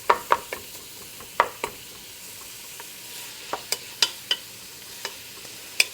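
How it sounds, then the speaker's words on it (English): Ground beef, still partly frozen, browning in a cooking pot for chili, with a steady soft sizzle broken by sharp scrapes and knocks of a utensil stirring, some close and loud, spaced irregularly. "So we're going to get this ground beef cooked down"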